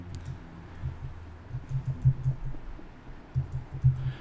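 Soft, scattered keystrokes on a computer keyboard while editing task text in MS Project, coming in small irregular bursts, close but quiet, with no voices.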